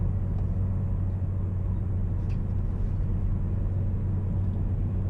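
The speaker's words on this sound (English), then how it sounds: "You can hear a little bit of wind noise and tire noise, even at lower speeds" Inside a 2020 Hyundai Elantra SEL at low speed, steady wind rush and tire roar form an even low rumble that holds constant throughout with no other sounds.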